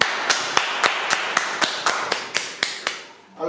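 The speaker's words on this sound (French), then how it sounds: "vous pouvez continuer de l'applaudir une dernière fois" Rhythmic clapping from an audience after a music interview: about a dozen sharp, evenly spaced claps in a steady beat, close and distinct, fading toward the end.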